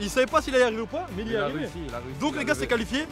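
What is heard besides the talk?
No distinct noise like a dog, phone or traffic.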